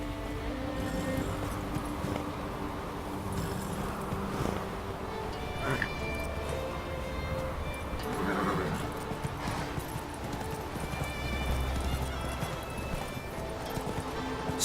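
Roach, a horse in The Witcher 3, with rhythmic hoofbeats clip-clopping and occasional whinnies over an ambient game soundscape, while someone talks intermittently.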